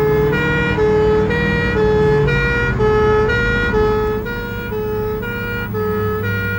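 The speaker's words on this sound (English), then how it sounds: "Two pump engines race to an exercise at a domestic house fire." Two fire pump engines racing to a practice call at a house fire, their wailing sirens loud and close, rising and falling steadily, over a constant low engine drone.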